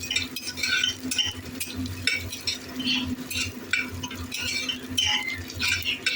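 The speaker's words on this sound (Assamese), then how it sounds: "পিঁয়াজখিনি মই এইদৰে ভাজি ল'লোঁ।" Onions sizzle steadily in hot oil with dried red chilli and five-spice seeds while a utensil scrapes and stirs the pan in repeated strokes, close and continuous with no talk.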